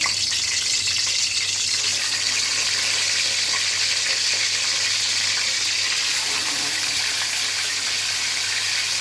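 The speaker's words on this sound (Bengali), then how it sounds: "এখন হালকা করে ভেজে নেব।" Salted chicken roast pieces, about 900 g, frying lightly in a pan, giving a steady, continuous sizzle with hiss at a constant close level and no talk.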